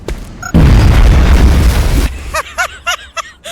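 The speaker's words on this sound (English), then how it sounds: "Oh, grenade." A grenade explodes in XCOM Enemy Within, one loud close boom with a rumbling tail lasting about a second and a half, followed by short vocal sounds.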